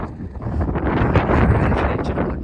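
Loud, gusty wind by the sea at Büsum, Germany, buffets the microphone in a continuous heavy rush, swelling and easing slightly, with no talking.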